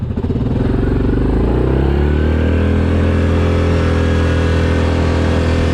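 A 2024 Yamaha Grizzly SE ATV pulls away on pavement, its engine loud and close, rising from a rough rumble into a steady, strong drone as it gets moving.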